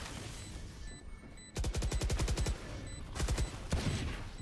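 Rapid bursts of automatic gunfire in a first-person shooter video game, a dense rattling volley followed by a second shorter burst, loud and close over faint background game sounds.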